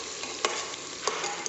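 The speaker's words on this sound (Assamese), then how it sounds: "এইখিনি এতিয়া ভাজি লওঁ পিঁয়াজখিনি।" Onions frying in a pan while goat meat is cooked in a pressure cooker, giving a steady sizzle with a few brief stirring clatters, close and unbroken by talk.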